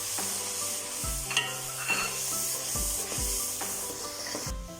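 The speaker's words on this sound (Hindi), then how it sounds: "अब हम इसमें तमाम मसाले ऐड कर देंगे और मसालों की अच्छी तरह भुनाई करेंगे।" Spices and softened tomatoes for kadhi pakora frying in a pan, a steady close sizzle with intermittent scraping strokes of a spoon stirring the masala, no voices.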